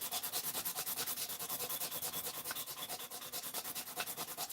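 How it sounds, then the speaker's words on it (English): A knife blade is hand-sanded with quick, even back-and-forth strokes, a close, steady rhythmic scratching that continues without pause. "I had to sand this side because of that Dremel"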